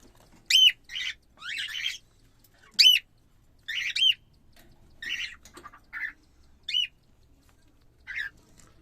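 Caged cockatiels on a home balcony let out sharp, separate squawks and chirps in short bursts, fairly close, with quiet gaps between calls.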